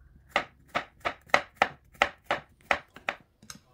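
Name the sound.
knife thinly slicing bitter gourd (ampalaya)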